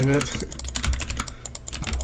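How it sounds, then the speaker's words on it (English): Fast, loud clattering of computer keys and mouse clicks, close up, with game sounds faintly underneath. "my mouse and my keyboard is so loud."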